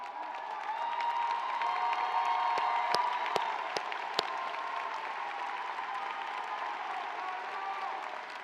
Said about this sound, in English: we want to applaud you for your accomplishments while you're on the 40 acres